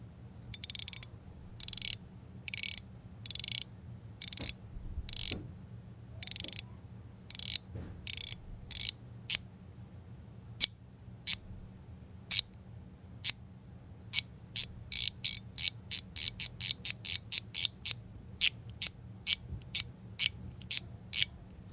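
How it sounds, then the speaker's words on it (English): Crisp metallic clicks from a Wind Spirit (Feng Ling) tuning fork slider fidget toy by MOT, first in short buzzing bursts, then single snaps speeding into a quick run of clicks, close and isolated. "one of the most effortless tuning fork sliders"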